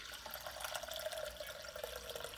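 Homemade elderberry kombucha being poured off gives a faint, continuous liquid trickle and splash, quiet and steady, with no one speaking.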